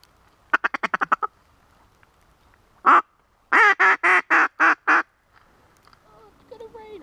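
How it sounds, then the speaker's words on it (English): Ducks quack in bursts: a rapid chatter of short quacks, one loud single call, then a steady run of six strong quacks close by. "it just sounded like some quacking."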